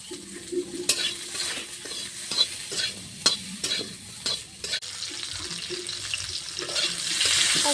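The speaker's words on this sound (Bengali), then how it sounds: "সজনের ডাঁটাটা ভাজা হচ্ছে" Moringa drumstick stems fry in a pan for a traditional shukto, giving a steady close sizzle with repeated sharp clinks and scrapes of stirring throughout, no talk.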